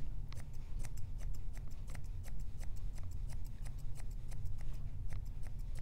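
Grooming shears trimming a Schnauzer puppy's muzzle, a rapid run of crisp close snips repeating steadily throughout over a low background hum.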